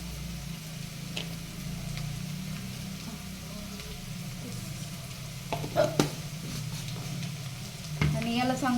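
Onions and green chillies for kanda poha frying in oil with a low, continuous sizzle, broken later by a handful of light taps and clicks from stirring.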